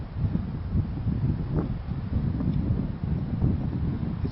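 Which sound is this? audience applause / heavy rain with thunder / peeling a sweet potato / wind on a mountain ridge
wind on a mountain ridge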